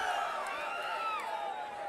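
An election rally crowd in Ambur roars in sustained, dense cheering, a loud wash of many voices with whistles rising over it throughout.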